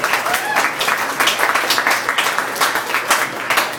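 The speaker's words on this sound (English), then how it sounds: "Big round of applause." A comedy club crowd claps in a thick, continuous wash of applause for a comedian being brought on stage, sustained at an even level throughout.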